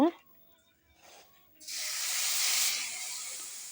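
Beef pieces for a beef biryani hit hot oil, setting off a sudden loud, steady hiss that sizzles strongly and continuously after a brief quiet start.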